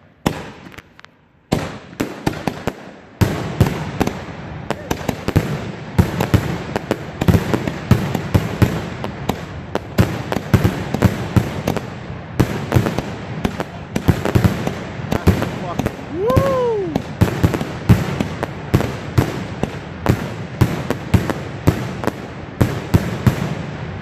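A 2.5-inch, 36-shot peanut shell salute fireworks cake fires a long rapid sequence of loud, sharp, cracking bangs, with a brief whistle partway through. People talk and cheer nearby between the shots.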